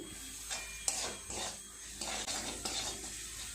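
Ground spices sautéed in a pan on low gas for a fish chop filling, a soft sizzle under repeated scraping strokes of a spoon against the pan, fairly quiet and close.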